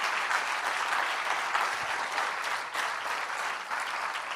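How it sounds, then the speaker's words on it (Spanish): A church congregation at a Sunday sermon breaks into steady, sustained applause that fills the room evenly from start to finish, with no voices standing out. "Dale un aplauso, déselo a Dios con todo su corazón"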